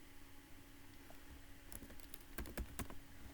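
Several computer keyboard keys are struck for the Ctrl+Shift+N shortcut, a short cluster of sharp clicks close by against a faint background hum.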